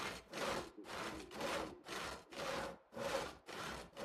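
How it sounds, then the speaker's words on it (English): Steady back-and-forth sawing through wood in the video game Project Zomboid, about eight rhythmic strokes with brief pauses between, close and fairly quiet, no voices. "Or sawing."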